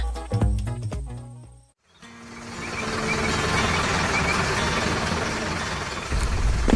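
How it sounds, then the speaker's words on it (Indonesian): A large cement mixer truck sounds rapid reversing beeps at first. After a brief silence comes a steady, loud engine rumble that continues to the end. "Lihatlah truk molen besar itu, teman-teman. Dia sedang dalam perjalanan"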